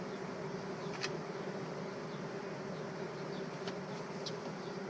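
Dense, steady drone of many honeybees buzzing close by at a newly built comb frame, a continuous low hum with an occasional brief tick, no voices.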